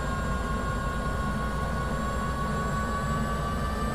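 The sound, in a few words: helicopter engine picking up as throttle advances, video game MSFS 2024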